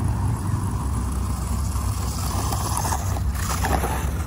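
A WLTOYS 104001 RC Baja buggy runs at full throttle up a dirt berm, its electric motor giving a steady, loud whine and rumble that hold for several seconds with no voices.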